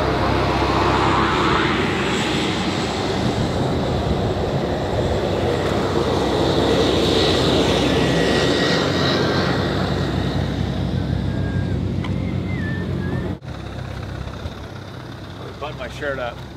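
A small plane's engine drones steadily in flight, loud and continuous with a broadband roar that barely changes, then drops slightly in level toward the end.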